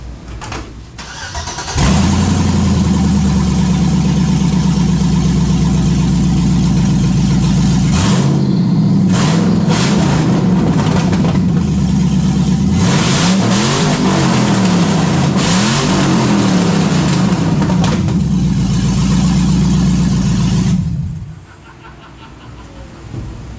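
Engine with both aftermarket headers installed firing up loud, then idling with a rough, heavy rumble and several throttle blips for about twenty seconds before shutting off.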